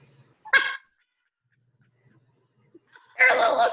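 A puppy yips twice during a home workout, one short bark early and a louder, longer burst near the end, separated by a quiet stretch.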